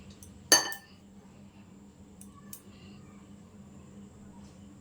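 A utensil clinks sharply against a bowl once, loud and close, while balushahi dough of flour, salt and baking powder is mixed, followed by a few fainter taps and quiet stirring.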